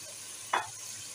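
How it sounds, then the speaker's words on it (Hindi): Potatoes dropped into a pan of frying onions, a single sharp burst of sizzling that flares briefly and fades back to a low steady frying hiss. "अब हम आलू को शामिल कर लेंगे"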